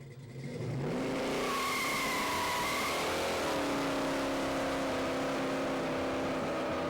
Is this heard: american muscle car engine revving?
yes